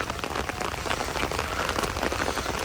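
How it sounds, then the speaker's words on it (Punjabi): Heavy rain pours down over a village as floodwater runs through it, a dense, steady hiss of drops hitting surfaces that stays loud and constant throughout with no one talking. "ਮੀਂਹ ਤੇਜ਼ ਹੋ ਗਿਆ ਫੇਰ ਦੁਆਰੇ"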